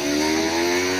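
Steady mid-pitched motorcycle engine drone at a stunt riding spot, holding an even, continuous tone close by with no pauses or voices.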